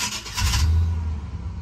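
1998 GMC Sierra pickup cranking with a failing starter, a close steady rumble of the engine turning over and catching, loud and continuous with no talking.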